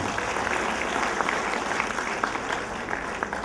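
At a kindergarten annual function, the crowd keeps up a loud, continuous round of applause as prizes are announced, with scattered sharper claps standing out in the wash.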